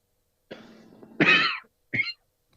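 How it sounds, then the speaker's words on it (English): A man coughs and clears his throat in a quiet courtroom, one low rumbling throat-clear followed by a loud harsh cough and a shorter second cough, close to the microphone. "thank you for not coughing into the microphone"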